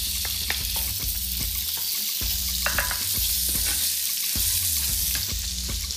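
Salted sea bass cubes go into a hot frying pan and set off a continuous loud sizzle, with occasional knocks, over background music.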